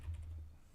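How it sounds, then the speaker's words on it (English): Fingers type on a computer keyboard with a few quiet, soft key clicks in a brief burst, with no voices. "I'm going to be typing a lot, so sorry about that."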